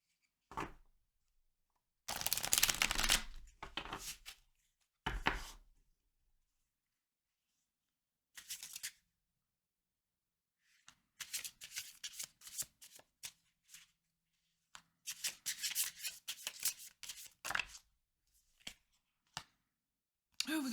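Tarot cards are shuffled close up in several separate bursts of riffling and flapping with short pauses between them, quiet and without any talking.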